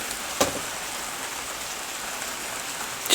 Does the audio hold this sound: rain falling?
yes